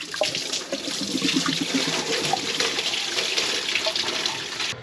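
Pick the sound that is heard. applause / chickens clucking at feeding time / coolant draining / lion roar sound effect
coolant draining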